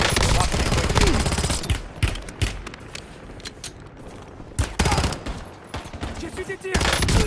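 Gunfire in a combat video game, with repeated loud bursts of automatic fire and single shots in irregular clusters over a busy background of game noise and distant rattles.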